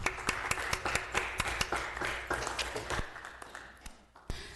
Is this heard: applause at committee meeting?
yes